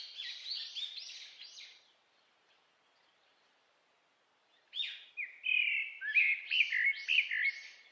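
High-pitched chirping of nestling birds begging in the nest as a parent feeds them, bursts of rapid calls, a two-second pause, then louder overlapping cheeps close by.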